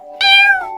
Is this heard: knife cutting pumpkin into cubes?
no